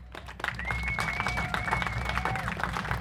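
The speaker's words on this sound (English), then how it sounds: "Please give a big round of applause to our sponsors, our volunteers, and our board members." Outdoor crowd at the Utah Highland Games clapping for sponsors, volunteers and board members, a moderate scattered round of applause with bagpipe drones sounding steadily underneath.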